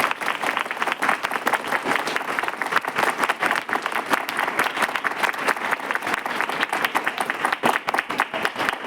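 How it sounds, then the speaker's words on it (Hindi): An audience claps loudly together in sustained, vigorous applause, a dense crackle of many hands that keeps up throughout the stretch. "एक बार जोरदार तालियां बजा के दिखाओ।"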